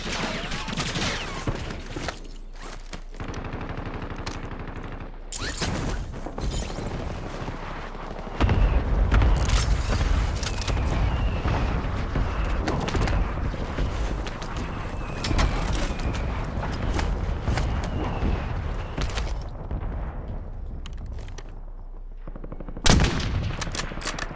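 Gunfire in Black Ops 6 Warzone on Verdansk: rapid bursts of automatic weapon fire and heavier booms crackle in dense, repeated volleys, loud and close, with brief pauses between exchanges.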